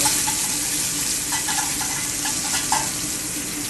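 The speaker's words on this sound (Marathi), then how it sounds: "सो आतां हांव घालता पयलीं क्रॅक्ड पेपर, ऑयल आनी चिली चॉप केलेली." Chopped chili and cracked pepper frying in hot oil, a loud, steady close sizzle with faint scattered stirring clicks throughout.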